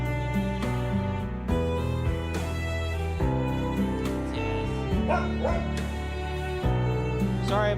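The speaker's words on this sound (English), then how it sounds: "Sorry, my dogs want to see what's going on too." Pet dogs bark and whimper in short yips that are partly buried under continuous, loud game music.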